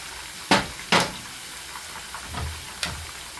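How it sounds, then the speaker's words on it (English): Beans hit a hot pan with a couple of loud bursts of sizzle, then settle into a continuous hiss with smaller crackles, close and fairly loud. "You can see they're already sizzling up."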